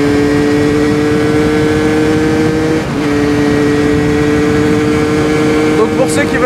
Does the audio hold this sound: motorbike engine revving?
yes